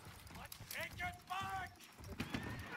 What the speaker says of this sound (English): It's all about the horses.